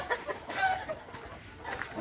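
Rooster from a fighting-cock breeder's flock giving short, irregular clucks, fairly close, over faint farmyard background with no talking.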